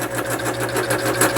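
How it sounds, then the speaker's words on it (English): A scroll saw set near its lowest speed cuts through a plastic part for a mower axle repair, a steady rapid buzzing chatter of the reciprocating blade, close and even, with no talking. "this is a scroll saw. So got it on its pretty close to its lowest setting here"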